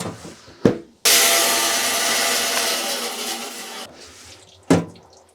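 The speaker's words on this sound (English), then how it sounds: "I'm just going to go for a cut straight through the middle" A saw grinds steadily through a clamped piece of fossil agatized coral, a loud rough cut running about three seconds between brief knocks and handling noises, with no talk.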